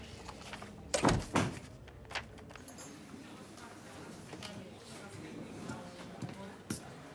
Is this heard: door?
yes